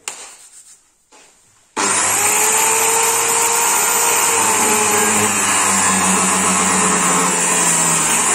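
Metal cut-off grinder slicing through a piece of metal on a DIY snowbike build, starting up after a brief quiet moment and then running loud and steady with a high whine for the rest of the clip.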